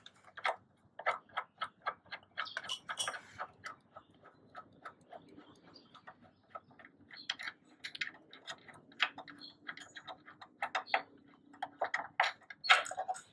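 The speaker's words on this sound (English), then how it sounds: "take your wrench and unscrew these" A wrench clicks and ratchets in quick, uneven bursts while unscrewing the front reflector screws on a Ninja 300 motorcycle, close and crisp with short pauses, and no talking.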